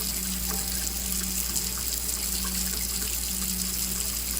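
Hands rinsed under a running tap, a steady close rush of water with a low hum underneath, continuous and even throughout, with no talking.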